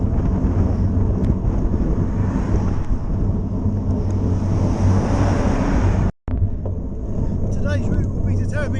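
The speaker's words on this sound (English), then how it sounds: "It's very windy and it will come in quick." Loud, roaring wind buffets the microphone while cycling, a constant rushing gust that cuts out briefly and then resumes more quietly.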